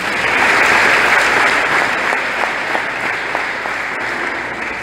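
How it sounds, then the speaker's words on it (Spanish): A congregation at a Neocatechumenal Way Advent proclamation in Guayaquil, Ecuador, applauds a community with sustained, close clapping that stays full and then eases slightly toward the end, with no talk over it. "Un aplauso, hermano."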